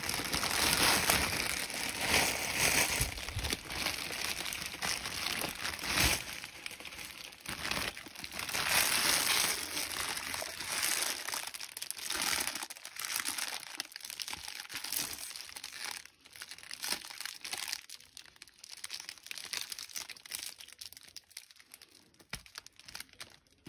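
Crinkly foil wrapper of an Easter egg being torn open and unwrapped by hand, a close, continuous crumpling and rustling that is loud at first and gradually thins out into sparse crackles.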